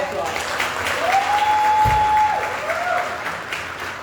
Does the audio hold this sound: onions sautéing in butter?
no